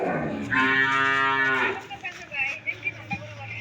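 A dairy cow on a cattle farm gives one long, loud, close moo lasting about a second, followed by quieter background shuffling and faint voices.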